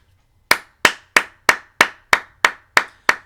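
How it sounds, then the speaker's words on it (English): Nine crisp hand claps in an even, steady rhythm, loud and close with a short room decay after each, subdividing a musical pulse in a rhythm lesson, with no voices. "we'll clap on a pulse."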